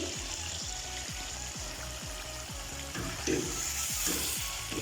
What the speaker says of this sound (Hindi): अब इसमें मैं थोड़ा सा पानी डालूँगी।